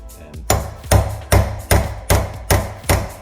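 A hammer strikes a chisel to drive out the front wheel bearing race on a FIAT 124 Spider, seven sharp metallic blows at a steady, evenly spaced rhythm, loud and close, with no talking.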